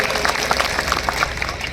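Audience applause welcoming a guest at the opening ceremony of a community sports competition, a dense steady patter of many hands clapping at moderate distance with crowd murmur underneath.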